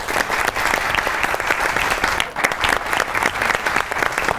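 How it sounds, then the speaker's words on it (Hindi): A studio audience claps for two guests on a talk show, a dense, lively burst of applause that stays loud and continuous the whole time. "दोनों के लिए ताली बजाइए पहले तो।"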